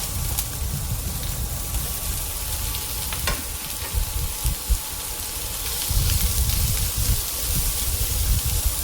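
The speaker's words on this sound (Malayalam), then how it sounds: "ഒരു മീഡിയം ഫ്ലെയിമിൽ വെച്ചൊന്ന് വഴറ്റണം" Chopped carrot sautéing with shallots in coconut oil over a medium flame: a steady close sizzle with intermittent stirring scrapes and soft clatters that grow busier toward the end, with no voices.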